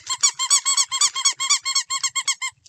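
The squeaky part of a BarkBox dog toy squeaks in a fast, steady series of about fifteen loud, high squeals before trailing off, close up and alone.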